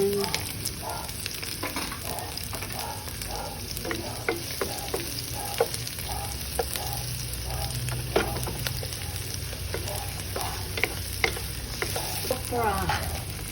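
Onion frying and being stirred in a pan for a Filipino sautéed okra with egg dish: continuous close sizzle punctuated by frequent scraping and clinking of a utensil against the pan.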